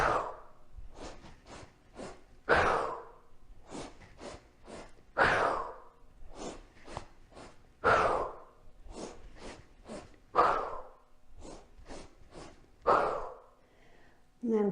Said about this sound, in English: Take a nice deep inhale, exhale,